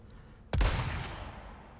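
A single sniper rifle shot from a video game, Resident Evil 4, set on an island: one sharp, loud crack that trails off in a short echoing decay.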